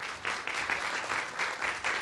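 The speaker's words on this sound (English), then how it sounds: "Okay, big round of applause." A crowd claps steadily at a game development industry pitch night, a dense, continuous wash of applause with slight surges in intensity and no talking.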